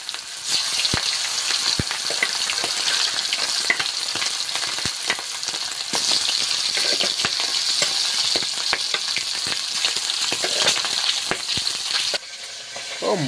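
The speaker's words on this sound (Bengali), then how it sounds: "এবার মাছগুলো তেলে ভেজে নেবো।" Magur catfish rubbed with turmeric fry in hot oil, giving a loud steady sizzle broken by sharp spitting pops throughout, with a brief drop in intensity near the end.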